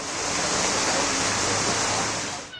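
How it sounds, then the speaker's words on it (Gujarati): Steady, dense roar of heavy monsoon rain with strong wind and water flooding over city streets in Saurashtra, Gujarat, loud and continuous throughout with no breaks. "ધોધમાર વરસાદ શરૂ થતા શહેરના માર્ગો પર પાણી ફરી વળ્યા"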